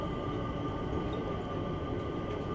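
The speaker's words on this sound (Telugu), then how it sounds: "చూడండి, డ్రైవర్లెస్ వెహికల్" Driverless automatic train in the Philippines running with a steady low rumble and rolling hum, a continuous mechanical drone with no voices.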